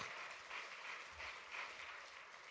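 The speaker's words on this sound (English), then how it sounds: "You can clap." Applause from an audience at a union legislative political conference, a steady wash of clapping at low level, sounding distant and thin throughout with no voices on top.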